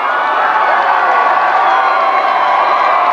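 A big outdoor parade crowd celebrating a World Series win in Toronto sends up a continuous, dense roar of cheering and shouting that holds at a steady high level throughout.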